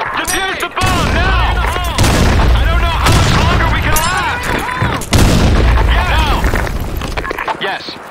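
A grenade explosion and rapid gunfire in the shooter game Blackshot, loud bursts of shots and booms with sharp cracks, mixed with shouted voices and game voice lines.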